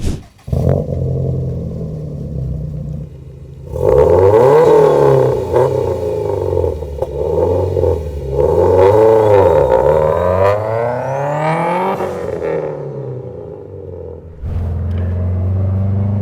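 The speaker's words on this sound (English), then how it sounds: "Dude, your car is so loud, man. Is this the race muffler that you still got on?" A Subaru WRX STI with a loud aftermarket race muffler revs up repeatedly, rising and falling in pitch with a throaty rumble, then settles back to a steady idle.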